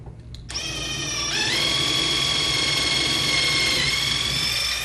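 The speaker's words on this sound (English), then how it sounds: "So we're going to drill right in here." A power drill spins up after a brief pause and whines steadily at close range, its pitch shifting slightly as it bites into wood.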